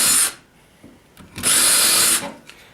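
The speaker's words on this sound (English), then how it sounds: "I'm going to quickly switch over to a countersink bit so I don't pull through the wood too much." A power drill fitted with a countersink bit bores into plywood in two loud, high-pitched bursts, first a short spin and then a longer one, with a quiet pause between them.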